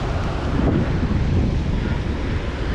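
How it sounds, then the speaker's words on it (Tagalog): Strong ocean waves at Siargao roar over heavy wind buffeting the microphone, a loud continuous rush with no clear voices. "Lakas ng alon."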